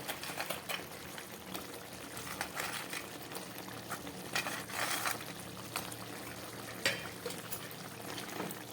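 A pot of curry bubbles at a steady boil, soft popping and gurgling bursts rising irregularly over a low constant simmer, close by with no talk.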